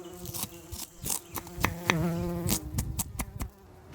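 Bees buzz and drone up close around a wild honeycomb being cut, their humming rising and falling, mixed with scattered sharp taps and clicks.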